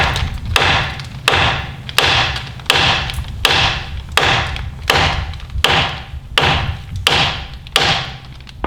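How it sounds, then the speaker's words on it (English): A hammer strikes a Mini Cooper tie rod end again and again, with about a dozen sharp metallic blows spaced at a steady rhythm of roughly one every two thirds of a second. The hits are loud and close, and no voices can be heard. "all you do is you bang on it until it drops"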